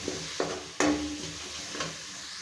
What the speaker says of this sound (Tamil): தேங்காவை நல்லா வதக்கிடணும்